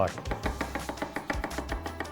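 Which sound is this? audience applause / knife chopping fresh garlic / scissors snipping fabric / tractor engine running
knife chopping fresh garlic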